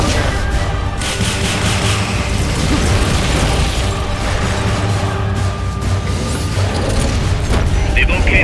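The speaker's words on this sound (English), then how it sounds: "Firing rocket launcher." Rocket launcher fire and explosions in Metal Gear Solid: Peace Walker, a loud continuous mix of booming blasts, rumbling low end and mechanical clanks, with game voices mixed in.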